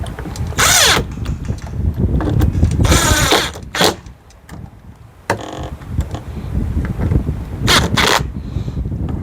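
Screws are driven into a GEEK SMART deadbolt during installation, a loud, close power driver whirring in repeated bursts with short pauses and ratcheting clicks between them.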